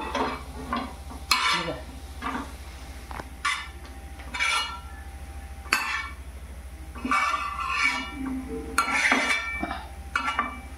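Okra (bhindi) stirred in a pan at home, with intermittent scraping and clinking of a utensil against the pan over a steady low hum, loud bursts recurring every second or two.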